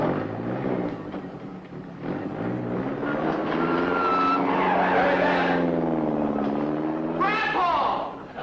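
A car pulls away with long, wavering tire squeals and skidding that rise and fall across several seconds, loud and near, in a 1950s TV sitcom scene.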